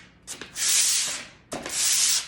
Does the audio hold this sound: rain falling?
no